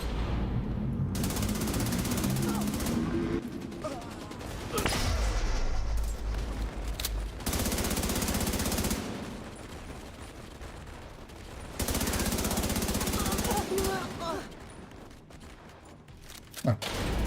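Sustained bursts of automatic gunfire and heavy shots from a firefight in The Division, loud and dense, coming in several long volleys separated by brief lulls, with a short thump near the end.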